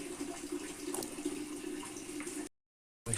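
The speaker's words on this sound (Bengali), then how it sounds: "দুই থেকে তিনবার ধুয়ে নিলাম যেন ওর আঠার মতো কষগুলো বের হয়ে যায়" Raw green mangoes are rinsed under steady running tap water, a soft continuous splashing that cuts off abruptly and then briefly resumes.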